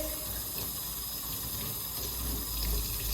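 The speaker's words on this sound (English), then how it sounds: "Now, rinse it, double it over, squeeze." Water sloshes and runs steadily as a microfiber cloth is rinsed, folded and squeezed in a bucket during cleaning, a continuous close splashing trickle with faint mechanical clicks and no talking.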